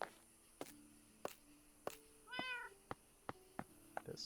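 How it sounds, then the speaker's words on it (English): A Minecraft cat gives one short, clear meow amid sparse, quiet game clicks and footsteps in an otherwise hushed scene. "This cat is very vocal."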